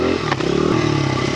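A farm motorbike's engine revs hard and close through a wheelie on a steep mountaintop enduro climb, a loud, steady buzzing drone with faint clattering underneath.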